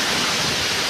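Swirling water rushes in a steady, broadband wash that is close and fairly loud, with no other sounds over it.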